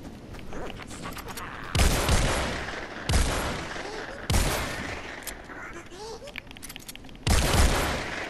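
Gunfire in Fortnite Save the World, heavy booming shots in four separated bursts, loud and close, each with a long ringing tail.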